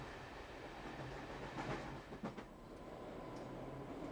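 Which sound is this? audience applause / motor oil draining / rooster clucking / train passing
train passing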